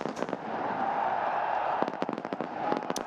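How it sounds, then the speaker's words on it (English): Fireworks crackle and pop in rapid bursts over a steady crowd roar at a cricket stadium during a Bangladesh Premier League T20 match, with several sharp bangs clustered toward the end. "And the fireworks go off."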